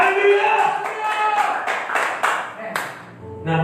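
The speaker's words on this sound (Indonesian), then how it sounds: "Tepuk tangan yang begini bagi Tuhan." A church congregation at a worship service claps hands in several sharp, scattered bursts while a speaker talks over them, with musical tones sustained in the background.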